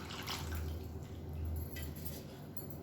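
Reserved cooking water, drained from boiled onions and tomatoes, is poured into a pot of sambar, a continuous close splashing trickle with small surging pulses, heard alone without talk.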